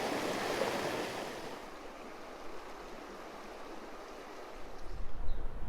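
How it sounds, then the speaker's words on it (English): Creek water rushes over rapids in Aravaipa Canyon, Arizona, a steady broadband wash that is strongest at the start, eases, then picks up again near the end. "Definitely more water features and rapids down at this west end than the east."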